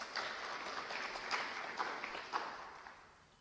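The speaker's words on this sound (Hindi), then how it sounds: "इसके नाम पे ताली बजा दो, गुड़िया के नाम पे।" Applause from an audience at a university career-guidance talk, a steady wash of clapping with a few louder bursts, fading toward the end.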